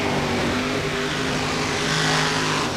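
Gravedigger's monster truck engine at a TNT Monster Trucks show in Flemington, New Jersey, with the truck showing sparks underneath and a recent mechanical problem, roars loud and continuous as it runs, a dense, steady, throaty growl with no pauses.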